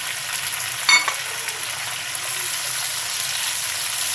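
Hilsa fish frying in oil on a bed of fried onions in a pan, a steady close sizzle with a brief clatter near the start and no talk.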